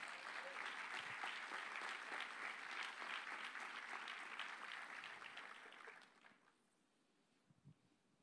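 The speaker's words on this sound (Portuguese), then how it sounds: "Aplauda Jesus por isso," A church congregation applauds during a sermon, loud clapping that runs steadily for about six seconds, then fades quickly to quiet room noise with a brief faint sound near the end.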